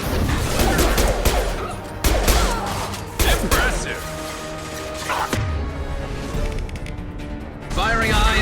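Heavy high-impact gunshots from the video game Mass Effect 2: about five loud, sharp blasts spaced unevenly, each followed by a crash-like tail over a dense layer of game noise and music.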